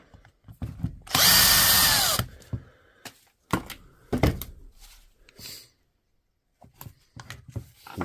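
Power drill backing the last screw out of a DeWalt tool under repair, one loud whirring burst of about a second followed by clicks, knocks and handling of parts close by.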